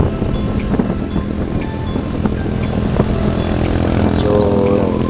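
Honda Click 125 version 3 motor scooter riding along, a steady engine drone mixed with road and wind rush, continuous and fairly loud throughout with no talk.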